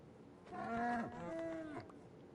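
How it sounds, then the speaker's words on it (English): A video-game cow gives a single drawn-out moo that falls in pitch, then a second shorter moo, heard near and clear over a quiet background at a player's base. "Oh, we got some cows at our base."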